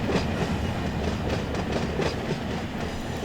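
A train rolls steadily along the track in a rail yard, a continuous near rumble with faint rhythmic clicking of wheels, no voices over it.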